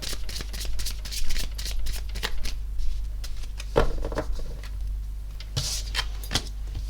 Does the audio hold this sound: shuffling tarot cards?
yes